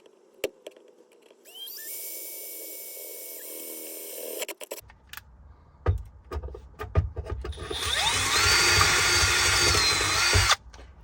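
A power drill bores a hole through the body of a BMW E36 during a hydraulic handbrake install, with a high-pitched whine starting early, then a grinding stretch as the bit cuts through metal, loud and close with no talk.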